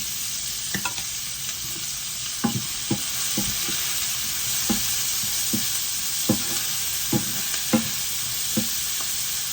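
Salted onions sauté in a pan for a curry, a continuous soft sizzle broken by scattered scraping knocks of a spoon stirring, with no voices.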